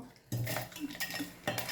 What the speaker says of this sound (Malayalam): ഇനി മിക്സിയുടെ ജാർ എടുത്തതിന് ശേഷം നമ്മൾ വറുത്ത് വെച്ചിരിക്കുന്ന ഈ മുളകും